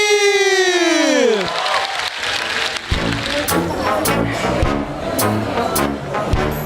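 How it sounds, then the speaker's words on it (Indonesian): Audience applause and cheering for a stand-up comedian in a comedy show, a loud, dense wash of clapping that swells after a fading musical tone and keeps going steadily. "Kita berikan tepuk tangan untuk Dodi."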